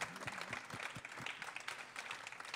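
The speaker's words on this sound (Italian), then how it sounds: "Ed è sicuramente un applauso giusto" Audience at a theatre talk claps briefly, a soft, somewhat distant patter of many hands with a faint voice or two underneath.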